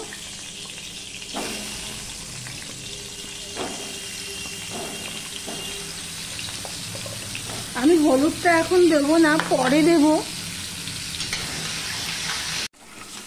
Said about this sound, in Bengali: সবার প্রথমে আমি মিষ্টি কুমড়োটা ভেজে নেব।